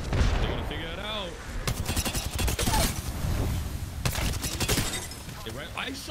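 Rapid bursts of energy gunfire from the Volt in a shooter game crackle loudly and nearly continuously, with short pauses between volleys, while someone talks over the shooting.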